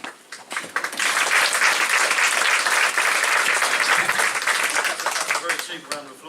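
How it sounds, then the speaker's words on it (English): An audience applauds at a Romford Drum & Trumpet Corps performance: the clapping swells in after a second and holds loud and dense for several seconds before thinning, with some voices mixed in. "A very cheap round of applause"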